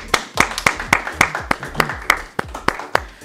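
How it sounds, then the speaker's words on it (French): A small studio audience at a general-knowledge quiz claps for the contestants: a dozen or so sharp, distinct hand claps in a fairly regular rhythm, close and fairly loud, with no talking. "on les applaudit."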